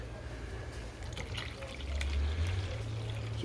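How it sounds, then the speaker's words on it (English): Gold solution is poured into a filter funnel, liquid trickling and splashing softly up close, growing slightly louder partway through as the stream fills the filter. "So I'll get a funnel ready and a filter. Alright, so I've got a filter ready here. I'm going to pour this in."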